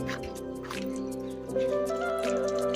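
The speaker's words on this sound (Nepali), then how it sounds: "water tap" Water drips and trickles from an outdoor water tap, a run of close, wet plinks over a faint steady flow.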